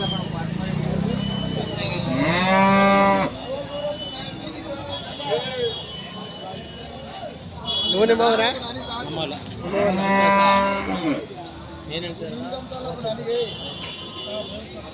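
At a weekly cattle market by a temple, several cows moo in long, loud calls, three main bouts spread across the scene, with people talking throughout and general market bustle in the background.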